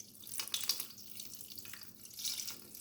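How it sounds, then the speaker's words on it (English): June plum juice with cucumber strains through a cloth strainer, a soft, close trickling and dribbling of liquid with a few brief surges, faint and with no voices. "we're going ahead now and we're going to strain this off."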